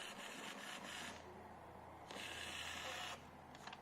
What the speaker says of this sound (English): It's printing the label.